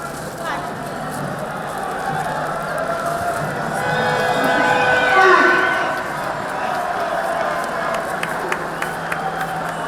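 A football stadium crowd at a Cracovia match applauds a marriage proposal, with sustained clapping and cheering swelling mid-way and then easing, while an announcer's voice carries over the noise.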